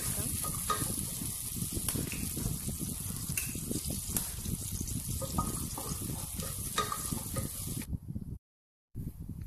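Sliced onion sautéing in a pan with bay leaf, cardamom, cinnamon, cloves and star anise for Kerala fish biryani gives a loud, steady close sizzle with stirring scrapes, cut by a short silence near the end.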